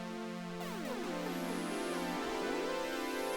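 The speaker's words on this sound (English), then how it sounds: "What you're hearing there is something called glide." A synthesizer patch with glide, portamento sliding the notes smoothly up and down in sweeping pitch curves, sustained and fairly loud with rich layered harmonics, no voices.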